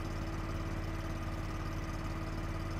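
An engine-driven welder idling at low speed after warming to operating temperature, a steady low rumbling drone with a faint even hum and no talking.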